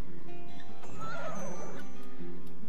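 A horse in a mobile farming game gives a clear synthetic whinny that rises and falls in one burst, set over a soft looping background tune, with a faint hoof clatter near the start.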